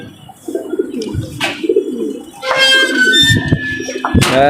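Pigeons in a home-bred loft give soft, repeated coos from close by, with a few sharper chirps and bird calls toward the end.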